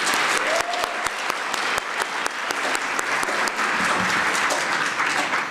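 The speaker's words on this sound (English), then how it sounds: "Let's give them all another round of applause." Audience applause after a round of speeches at a school speech competition night, steady clapping from a crowd with a few sharp louder claps standing out near the front, sustained throughout without talk.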